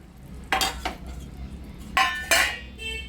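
Egg masala being served onto a plate, a spoon clinking and scraping against the dish in a few sharp bursts, close and fairly loud, with quiet gaps between.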